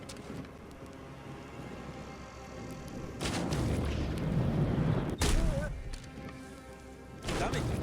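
Gunshots in an Assassin's Creed-style action video game scoring headshots: a few loud, sharp booming bursts with crashing tails over game ambience, with a voice talking nearby.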